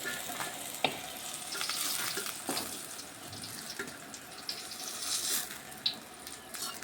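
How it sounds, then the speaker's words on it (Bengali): Fried eggplant lifted out of hot oil, a soft sizzle with scattered clinks and scrapes of a slotted spoon, fairly faint and without speech. "এই যে বেগুনগুলি ভাজা হয়ে গেছে, এখন আমি ভালোভাবে ছেঁকে তেল থেকে নামিয়ে দিচ্ছি।"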